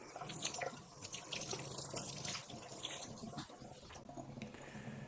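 Aroma rice cooker parts washed under a running kitchen tap, a steady rush of water splashing onto the pieces, with uneven spatters and clatter, close and fairly quiet.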